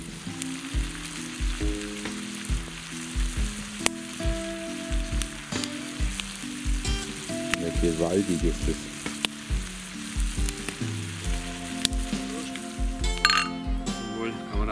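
Mushrooms sizzle steadily in a frying pan over an outdoor fire with occasional clinks and stirring noises, while someone speaks briefly in German over the cooking.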